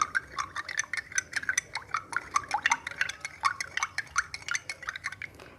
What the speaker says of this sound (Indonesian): lalu kita aduk